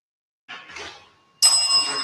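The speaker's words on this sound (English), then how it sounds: "It's right after the second chime." Two bright bell-like chimes in a recording: a softer first ring fading out, then a louder, sharper second chime with a lingering ringing tone.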